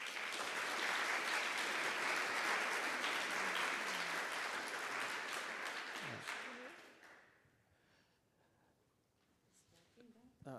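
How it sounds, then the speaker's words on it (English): A conference audience at an urban planning plenary in Vienna applauds a speaker, a dense sustained round that fades out after about seven seconds, followed by quiet room noise and faint voices. "Let's give her a round of applause."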